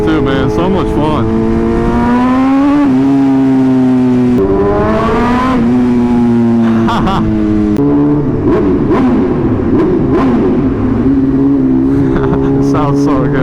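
BMW M1000RR superbike engine revving hard through the gears at speed, loud rising and falling wails with sharp shifts, close and dominant, with a rider talking at moments.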